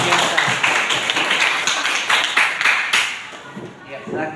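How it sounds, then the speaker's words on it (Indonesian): Students in a classroom clap for group 2, a quick burst of uneven, close hand claps with voices talking over it before it fades out. "Kasih tepuk tangan dulu dong."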